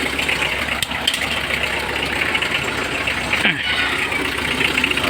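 After a hard start, a car engine runs at a steady idle, a continuous mid-pitched drone with a brief dip partway through, and a voice talks faintly over it.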